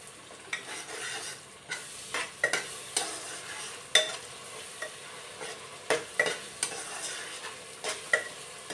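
Ginger garlic paste fries in a pan, with a soft sizzle beneath repeated sharp scrapes and clinks of a spoon stirring against the metal.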